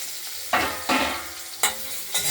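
Cut potatoes fry lightly with cumin in a pan, a close continuous sizzle punctuated by four loud stirring swooshes at irregular intervals.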